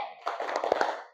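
A primary school class clapping a 'tepuk semangat' cheer routine, a short cluster of quick, uneven hand claps close by, rising and then fading out within about a second.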